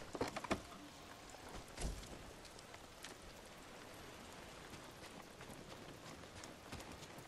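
Faint, irregular horse hoof clip-clops on soft ground in the video game Ghost of Tsushima, over a low background hiss, with a few sharper knocks near the start.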